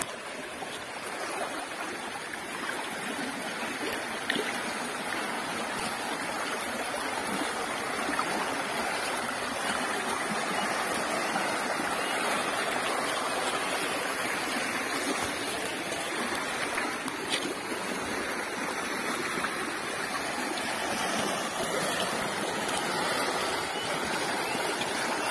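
Water flows steadily in a stream beside a grave site, a continuous soft rushing wash that holds at an even, moderate level throughout.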